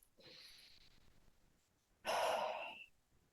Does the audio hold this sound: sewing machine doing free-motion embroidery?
no